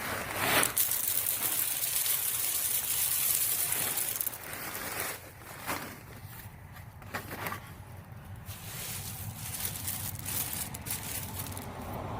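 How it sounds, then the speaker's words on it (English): Gravel is poured into a dug hole around corrugated pipe while a flag pole kit is installed. There are about four seconds of steady, gritty rushing, then scattered scrapes and crunches trailing off. "I'm just going to go ahead and put a little bit of gravel down in the hole until I get my corrugated to where I need it to be"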